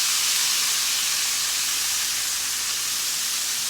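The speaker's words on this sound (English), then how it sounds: "We're going to let that fry up, y'all." Deer backstrap steak frying in a hot pan, a steady loud hiss and sizzle of oil running without pause, with no voices over it.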